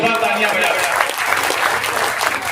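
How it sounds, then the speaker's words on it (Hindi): A crowd at an all-India mushaira poetry gathering in Begusarai, Bihar claps vigorously, a thick burst of applause with voices faintly audible underneath, steady across the short stretch. "एक बार अपने लिए जोरदार ताली बजाइए।"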